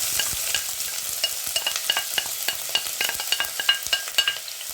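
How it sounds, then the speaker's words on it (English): One medium yellow onion sautés in oil in a pan over low heat, with a steady close sizzle broken by frequent spoon-stirring clicks and scrapes. "We're going to go in with 1 medium-sized yellow onion."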